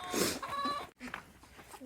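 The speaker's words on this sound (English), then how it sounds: "the last little guy we'll check on is our rooster" A lone farm rooster clucks and calls in a short loud burst up close, followed after a brief gap by fainter clucks and rustling.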